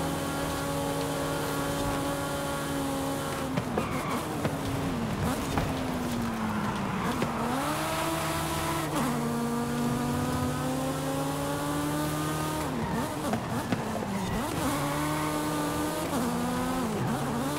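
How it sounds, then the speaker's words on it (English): Race cars in Forza Horizon 5 rev and corner hard, engine pitch rising and dropping through gear changes with brief tire squeal, loud and continuous throughout. "Definitely these cars are not happy on the cornering if you enter hard."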